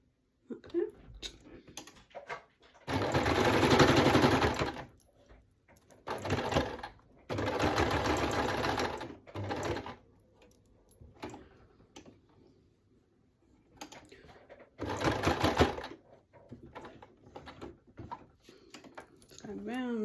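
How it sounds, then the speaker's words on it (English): Sewing machine stitching appliqué figures onto a people quilt, several loud whirring bursts of rapid needle strokes separated by pauses with handling clicks and a speaking voice in between. "Now I'm going to stitch her hat on, and then I will go over her other arm."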